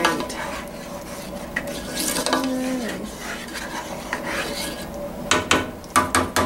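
Stirring brown gravy and meat in a pan for Salisbury steak, with steady scraping and rubbing of a utensil against the pan, then a run of sharp metallic clinks and knocks near the end, close and fairly loud.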